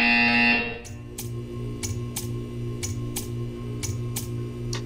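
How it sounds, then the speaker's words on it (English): A loud buzzer from the video game Portal 2 blares for about a second, then a steady hum continues with regular ticking clicks, roughly two per second. "You will hear a buzzer."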